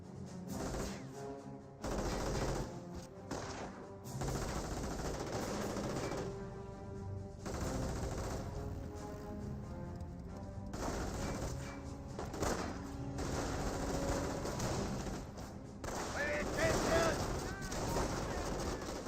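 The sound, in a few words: G43 rifle and gunfire in video game Company of Heroes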